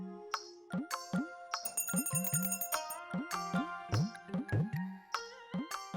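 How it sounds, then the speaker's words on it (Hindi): Bright jingling and tinkling bells ring repeatedly in a busy, irregular rhythm, mixed with other tonal sounds, fairly close and moderately loud. "अरे अब तो बजाओ ना घंटी"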